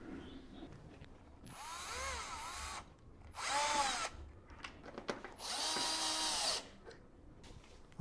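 A power drill drives screws into an IKEA Renberget chair during assembly, running in three separate whirring bursts of rising pitch, each a couple of seconds long, with quiet handling noises between them.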